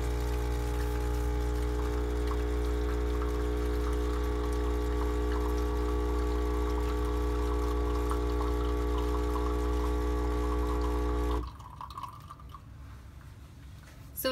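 A Nespresso Citiz machine brewing through a refillable capsule gives a loud, steady pump hum with liquid pouring for about eleven seconds, then cuts off to a quieter trickle and drip.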